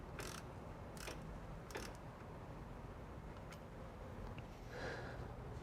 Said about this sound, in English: Now that oil started coming out of the fill hole, we can go ahead and tighten back up the plug.